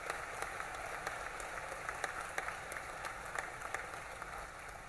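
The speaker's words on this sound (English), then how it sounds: "One more round of applause." Scattered clapping from an audience at a Toyota ceremony in San Antonio, a steady patter of many hands at moderate distance, fairly faint and without speech.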